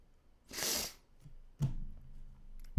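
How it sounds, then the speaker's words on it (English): A person sniffles close into a microphone several times: a loud breathy snort, then a sharper sniff and softer nasal breaths afterwards, with no speech. "I keep sniffling into the mic."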